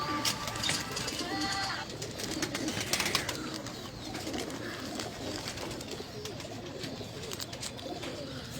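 Pigeons coo softly close by on a Lahore rooftop amid rustling and fluttering, with a few sharp clicks and taps.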